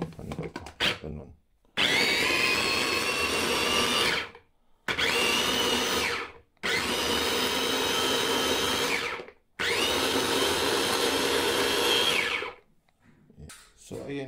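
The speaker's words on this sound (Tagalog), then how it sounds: "Ito kasing blender namin dito is medyo maliit compare nung blender namin sa Istanbul." A small kitchen blender purees sliced tomatoes for a hot, spicy tomato sauce: four loud, close motor bursts of a few seconds each, separated by short pauses.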